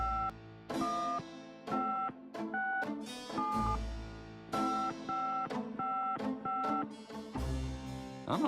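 Telephone number being dialed in the Gabriel Knight video game: a sequence of crisp touch-tone beeps, a quick burst of digits, a short pause, then more tones, loud, close and with no talk.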